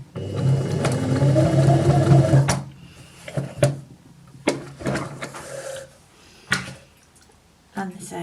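A sewing machine stitches a tailor's ham, humming steadily for a few seconds close by, then stopping. Scattered handling knocks and soft clicks follow in the quiet.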